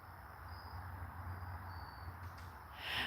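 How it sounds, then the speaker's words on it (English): Frogs and insects chirr at night outdoors in a faint, steady high drone with a low hum beneath, and a brief rise in the final moment. "you hear probably frogs and insects. Probably both."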